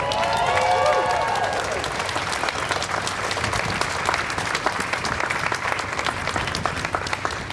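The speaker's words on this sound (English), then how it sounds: "Can we all give a round of applause for our speakers?" A crowd at a political rally breaks into sustained, dense applause for the speakers, steady and fairly loud throughout, with some faint cheering mixed in at the start.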